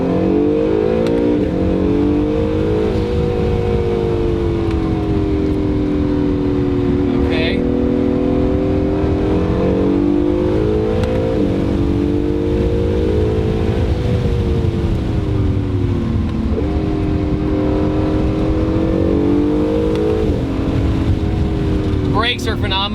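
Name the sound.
Acura NSX sports car accelerating up a hill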